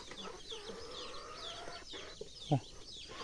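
Chickens, including a large breed and bantams, clucking in short calls over a steady farmyard background in the morning, with one louder burst near the end; a little other activity in the background.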